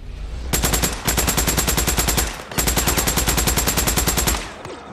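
Rapid automatic gunfire from the PS4 game Days Gone, loud, close bursts of machine-gun fire with a short gap, then a second long burst, with no talking.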